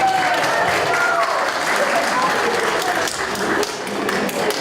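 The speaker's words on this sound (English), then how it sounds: "Please give them a big round of applause." Audience at the Aligarh Youth Festival 2019 gives a big round of applause during a spelling-style competition, a thick, continuous crowd clapping that stays loud and even across the whole stretch.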